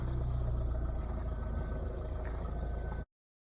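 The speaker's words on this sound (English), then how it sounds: "I hear a car, and lady decides to turn around in my gateway" A car turning around in a rural woodland gateway hums with a steady low engine rumble that sounds fairly close, then cuts off abruptly after about three seconds, with no talk.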